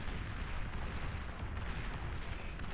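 Shuriken unit being shot down in the strategy game Beyond All Reason, heard as a dense, continuous rumble of distant explosions and artillery-like booms, steady and moderately loud with no talk.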